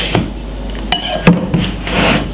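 Knife chopping a white onion on a cutting board for Jamaican stew chicken, a few sharp irregular chops and taps with light scraping between them, close and moderately loud.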